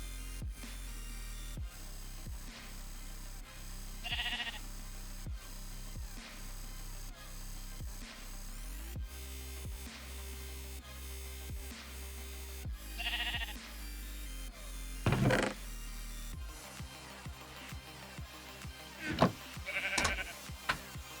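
Sheep bleating in the Minecraft modpack Stoneblock 3, with a sheep held on a stasis chamber; short bleats come at intervals over a steady low machine hum and clicks.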